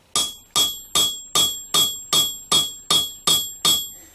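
A hammer strikes a pin in a fillet knife handle resting on an anvil, nine sharp ringing blows at a steady even pace, each with a bright metallic ring that decays before the next hit.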